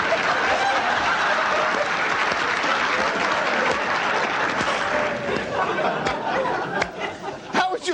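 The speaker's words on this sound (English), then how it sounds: "Now watch the applause." Audience applause on a 1998 political talk show, loud sustained clapping from a crowd with scattered chatter and light laughter mixed in, thinning out toward the end.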